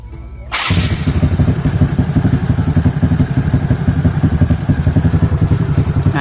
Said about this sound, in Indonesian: Sekarang kita coba hidupkan mesin.